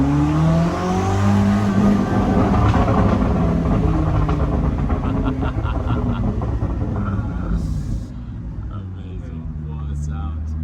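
Koenigsegg Jesko with a 1600hp engine accelerating hard, a loud, continuous roaring engine sweeping upward through gears, dense and close, easing slightly toward the end.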